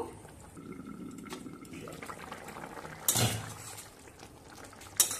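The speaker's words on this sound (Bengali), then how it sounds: "এবার এর মধ্যে ভেজে রাখা মাছ দেব। মাছ দিয়ে আবারও 2-3 মিনিট সেদ্ধ করে নেব।" Fried rui fish simmering in a potato curry in a pan: soft, steady bubbling and gurgling, broken by a sudden utensil clatter midway and a sharp clink at the end.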